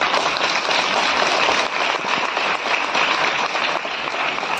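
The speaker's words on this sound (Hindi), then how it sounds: "ताली बजाएंगे।" Congregation at a Hindi Christian church sermon clapping hands together, a dense, steady wash of applause filling the room without pause, loud and close, no speech over it.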